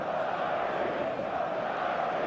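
A stadium crowd on match day in the eFootball football game, a steady dense roar of many voices and chanting that holds at an even level throughout, with no single voice standing out.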